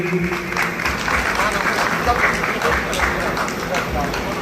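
A crowd applauds at a retirement ceremony for a BKT company employee, with dense, steady clapping throughout and speech mixed in over it.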